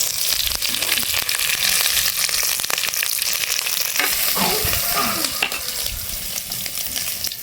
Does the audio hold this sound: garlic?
yes